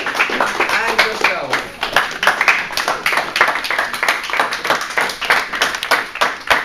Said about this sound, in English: I'd like you to give a round of applause to the panel.